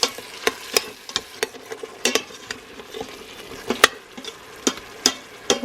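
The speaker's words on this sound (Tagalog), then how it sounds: "And then continue mixing." Spoon stirring pork sinigang with fish sauce in an Instant Pot, a steady run of sharp clinks and scrapes against the metal pot over a soft bubbling bed, close up.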